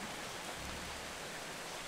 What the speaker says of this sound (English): now that it's raining, do I need anything else?